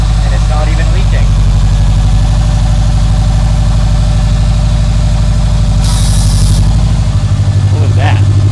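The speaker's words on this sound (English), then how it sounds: "That is a happy sounding engine." A 2013 Subaru STI engine idles steadily and loudly up close after a no-start fault was repaired, its low rumble running continuously with a brief higher hiss partway through.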